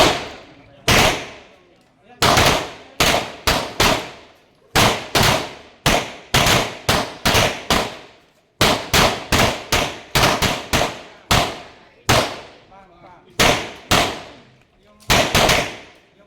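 Sharp gunshots ring out one after another at a firing range, shooters firing five-round strings at 10 meters, in quick clusters of two to five with short pauses between, loud and close.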